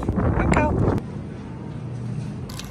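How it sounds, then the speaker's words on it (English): Wind blows outside, heard as a low rumbling buffet against the microphone, with a person talking over it at first before the wind continues alone, fairly steady and close. "it's just windy"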